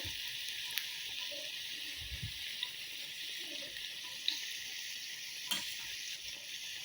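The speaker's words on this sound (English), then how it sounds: "so I'll just leave it to fry" Akara fritters made from beans, egg and rice fry in hot oil, producing a continuous soft hiss and sizzle with a few small pops and light clinks, at moderate distance.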